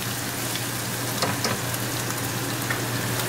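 Garlic and ginger frying in a hot pan, giving a steady, close sizzle with faint crackles and no talking.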